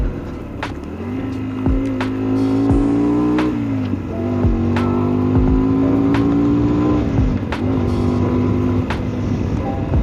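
Motorcycle engine running steadily while riding, its tone rising and falling through gear changes, with sharp short exhaust pops and cracks scattered throughout, close and loud with wind noise.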